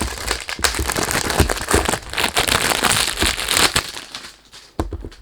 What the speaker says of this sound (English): Sorry about the noise when you do unboxing